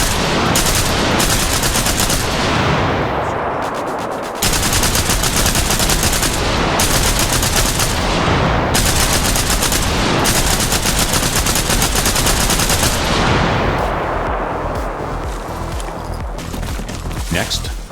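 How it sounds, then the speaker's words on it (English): A mounted .50 caliber machine gun in Arma Reforger fires long, loud, sustained bursts with brief pauses between them. A voice speaks over the gunfire throughout. "while using heavy weapons like a mounted 50 caliber machine gun, either in this capacity or on the roof of a Humvee"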